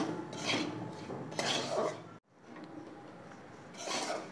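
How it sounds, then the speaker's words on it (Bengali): Semolina roasting in hot oil in a wok over a low gas flame, stirred with scraping, clattering strokes in bursts, close and fairly loud, with a brief drop to near silence midway. "গ্যাস কমিয়ে সুজিটা ভেজে নেবো।"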